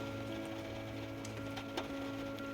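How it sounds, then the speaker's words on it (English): Rain drums steadily on the thin tin roof of a small campervan on a wet day, a dense low patter with a few sharper taps standing out, heard close from inside. "for about the third day in a row, it hasn't stopped raining."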